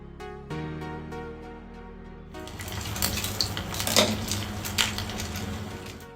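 Mustard seeds and dried manathakkali berries spluttering in hot oil: after a few ringing metallic clinks, a dense crackling sizzle starts and swells with sharp pops, close up, no talk.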